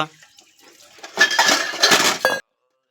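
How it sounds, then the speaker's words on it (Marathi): Steel dishes and pots being gathered up and carried off after a meal, clattering and clinking in dense bursts for about a second and a half, close by, with a brief final clink at the end. "आता आपण हे सगळे भांडी घेऊन जाऊ"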